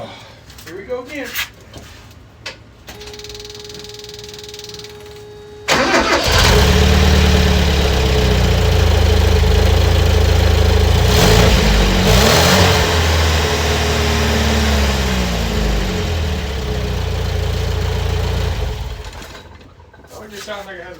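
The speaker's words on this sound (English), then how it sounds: "It just sounds like it has a stock muffler on it." A Mazda engine fitted with a welded-on ATV muffler revs loudly and steadily for about thirteen seconds after a quieter start with talk and a lighter hum, then drops back toward idle at the end.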